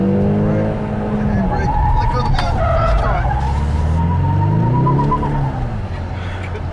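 A 2024 Ford Mustang EcoBoost, rear-wheel drive and automatic only, is on the gas and drifting: a steady loud engine drone rises in pitch with tire squeal over it, and someone talks over it.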